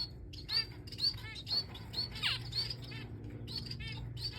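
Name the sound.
little birds chirping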